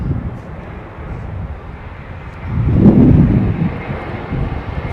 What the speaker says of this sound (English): That was the ERJ 145.